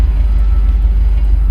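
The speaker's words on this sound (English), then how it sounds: "Waiting on this truck to go by." A heavy truck rumbles past close by a 1964 Cadillac Deville, a deep steady low-frequency engine drone filling the short clip with no talking.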